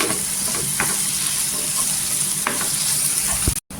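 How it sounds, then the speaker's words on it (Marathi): Tomatoes and onion sauté in hot oil with salt for a spicy dried-fish, brinjal and potato curry. A loud, continuous close sizzle carries a few sharp stirring clicks and scrapes, and no one speaks. "इथे चवीनुसार मीठ टाकायचं, म्हणजे लवकर टोमॅटो सॉफ्ट होतो। आणि छान असा तेलावर परतून घ्यायचं।"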